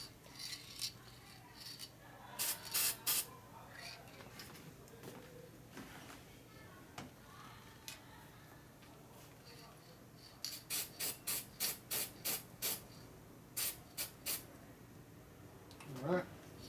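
Spray paint goes on motorcycle parts for a custom Harley chopper, sounding as sharp hissing bursts from a nearby can, a few early and then a quick run of short pulses, with quiet gaps between.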